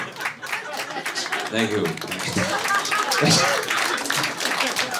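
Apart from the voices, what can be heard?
audience applause at comedy show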